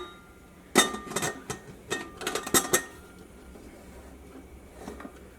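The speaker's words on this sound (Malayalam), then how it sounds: "കുക്കർ അടയ്ക്കാൻ വേണ്ടിയിട്ട് പോവാണ്." A few sharp metallic clinks and clanks as a pressure cooker lid is fitted and locked, then quiet.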